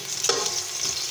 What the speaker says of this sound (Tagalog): Ito, hinahalo na natin yung garlic.